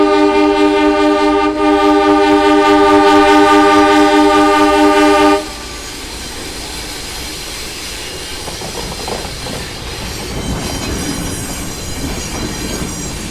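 A diesel Alco 958 locomotive on the rails near Mount Barker, loud and close, with a steady droning horn tone for the first five seconds, then rumbling wheels, rail clatter and occasional squeals as the train runs on.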